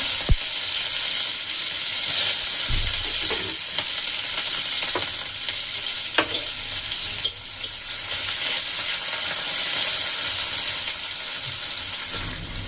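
Onions and bay leaves fry in hot oil with cumin in a pan, a steady loud sizzle with occasional sharp pops and stirring scrapes throughout, no talking.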